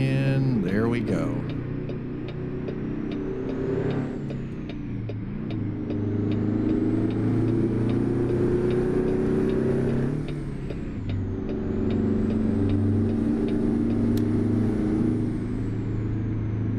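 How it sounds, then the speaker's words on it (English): A 500-horsepower engine in a 1970s Fleetstar 2070A logging truck rumbles steadily at close range, its deep drone rising and falling as it revs, running continuously throughout. "the 500 horsepower engine that we've got in this is actually starting to sound a little bit more"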